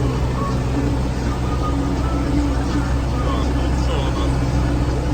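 An MTZ 892 tractor engine runs steadily close by, a continuous low droning rumble with a constant hum through the whole stretch, while a voice murmurs faintly in the background.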